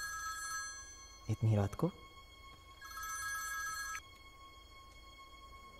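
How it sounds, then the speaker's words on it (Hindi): A telephone rings with bright, repeated electronic trills in two bursts late at night, and a close voice speaks briefly between the rings. "इतनी रात को कैसे फोन किया?"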